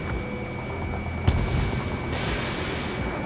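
A fighter jet in the video game Ace Combat 7 fires a missile, heard as a sharp launch thump followed by a rushing whoosh over a continuous roaring engine drone, fairly loud and without talk.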